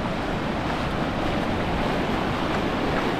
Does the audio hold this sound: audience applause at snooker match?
no